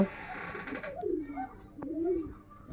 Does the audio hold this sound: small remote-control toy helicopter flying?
no